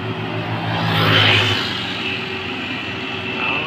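A heavily loaded truck accelerating up a steep slope, its engine building into a loud, strained roar that peaks and then holds a heavy rumbling drone, with no voices.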